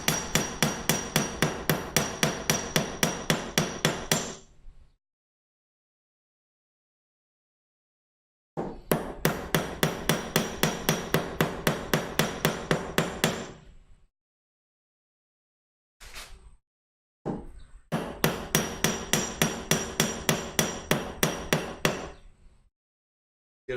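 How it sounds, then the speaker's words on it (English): A claw hammer pounds in rapid, evenly spaced blows on a woodworking shadow box, three long bursts of close, sharp strikes separated by quiet pauses and a couple of isolated taps. "We'll take our claw hammer and try and draw this out a little bit"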